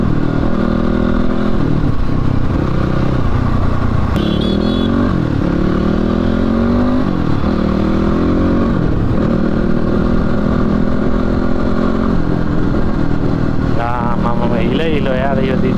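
A motorcycle rides along a road, its engine droning close and continuously with shifting pitch as it changes speed, while voices talk over the ride.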